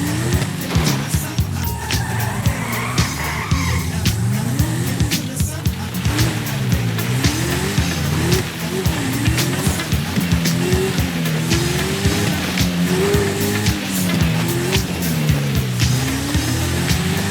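A super car's engine revs and strains continuously while it is driven off-road over mountain terrain in GTA V, the pitch rising and falling with throttle under a steady wash of tyre and terrain noise.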